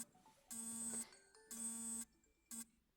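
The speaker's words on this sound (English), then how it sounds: "that's my alarm to tell me that I need to start making dinner" A home alarm goes off while someone stitches: three electronic buzzing bursts, two longer ones about half a second each and then a short final blip, fairly quiet with no talking.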